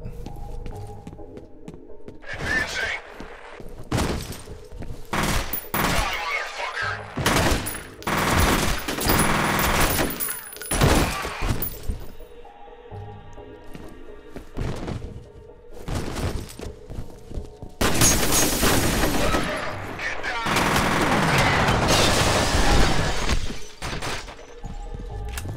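Gunfire in the shooter game F.E.A.R., loud bursts of automatic fire and single shots coming in clusters with short pauses, mixed with thuds and movement sounds.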